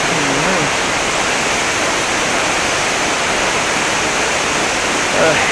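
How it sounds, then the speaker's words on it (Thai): Vachirathan waterfall in Chiang Mai, a loud, steady, broadband roar of falling water filling the whole clip without a break. "น้ำตกวัชิราคารครับ"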